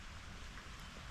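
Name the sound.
rain falling on surfaces outdoors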